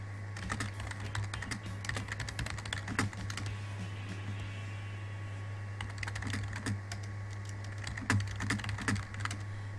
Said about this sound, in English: sorry I'm typing so loud